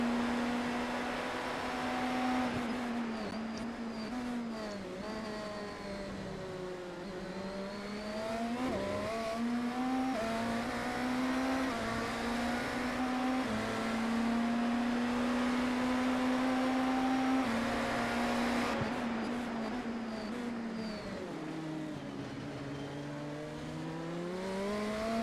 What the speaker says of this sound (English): I just want to show you a short clip of us passing a multi-class car